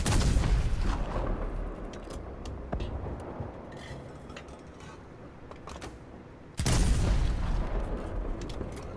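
A tank cannon firing in War Thunder, the M41A1, gives two heavy booming shots, one at the very start and a louder one later, each decaying into a long rumbling tail over low background noise.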